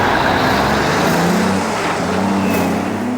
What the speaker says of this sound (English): Hundreds of trucks pass through here each day.